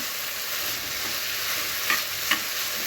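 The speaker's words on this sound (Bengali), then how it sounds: "আলু ভাজা করে রেখে দিই" Potatoes stir-fry for a simple bhaji, a constant dense hiss of oil with a couple of brief spatula scrapes near the end, close and even in level, no voices.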